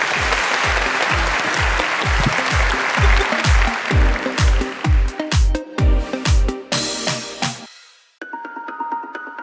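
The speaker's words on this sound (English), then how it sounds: "Please give them a big round of applause." Audience at a diversity and inclusion panel discussion applauding speakers and panellists, dense clapping with heavy rhythmic thumps that fades out abruptly, followed by a brief musical tone.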